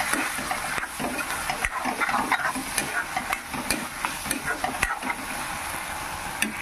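Brinjal and dry fish fry in a pan with a steady sizzle. Frequent, irregular spatula scrapes and taps sound up close throughout.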